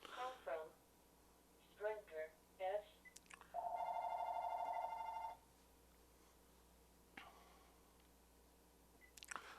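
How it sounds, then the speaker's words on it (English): A telephone rings faintly in a quiet room, a short electronic trill lasting under two seconds, with a few soft knocks and brief muffled sounds around it. "Of course, the phone's ringing."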